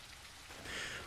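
Rain falls steadily in the video game The Isle, a faint, even hiss of drops on surfaces that swells slightly over about a second, with no voices.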